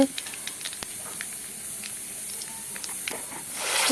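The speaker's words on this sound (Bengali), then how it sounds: "কড়াইটা গরম হয়ে গেল তেল দিয়েছি তেজপাতা দিয়ে কালো জিরা সম্বাস দিয়ে" Bay leaf and black cumin sizzle in hot oil in a wok with a close, steady hiss and soft crackles. The sound builds slightly toward the end, and no voices are heard over it.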